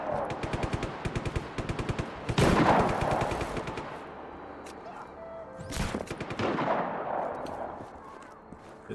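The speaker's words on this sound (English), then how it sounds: "He's being shot at, he's good." Rapid automatic gunfire from the Just Cause video game rattles in steady close bursts, broken by louder blasts and a second heavy burst, then trails off into sporadic shots and rumble.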